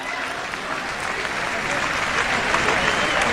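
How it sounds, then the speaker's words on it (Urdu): An audience at an Urdu poetry mushaira claps loudly and steadily, a dense sustained applause that swells slightly toward the end, with a voice faintly audible underneath. "اپنے لیے بھرپور تالیاں بجا لیجئے"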